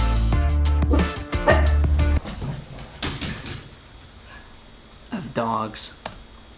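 Several sharp dog barks burst out near the start, followed by a few scattered yips and a louder bark later, mixed with clicking noises.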